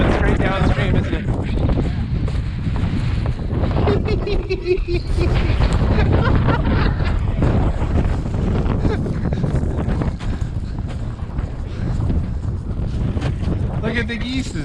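Wind gusting over the Deschutes River in Bend, Oregon, roaring steadily into the microphone as a loud, continuous rush throughout, with a person speaking under it.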